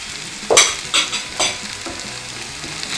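Potatoes and mushrooms fry in a pan with a constant soft sizzle while a utensil stirs them, giving three or four quick scraping pushes close to the microphone before the frying settles back.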